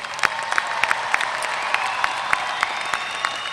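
A university commencement crowd in Corpus Christi claps for its graduates: dense, steady applause with sharp individual claps popping out, filling a large hall at moderate volume.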